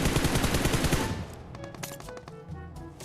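Rapid bursts of gunfire from the PUBG Mobile shooter game fill the first second with dense, loud shots, then thin into scattered single and short-burst reports with no speech.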